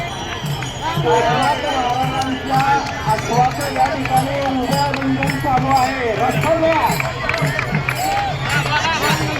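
A horse runs through the ringan ring at the Pandharpur yatra procession, its rhythmic footfalls nearly buried under a loud, dense crowd of voices and chanting that continues throughout.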